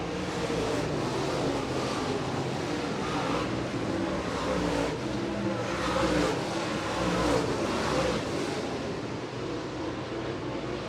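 Late model race cars roar past on the Merritt Speedway oval during a feature race, a dense, steady engine din with rising and falling surges as several cars slide by in close succession.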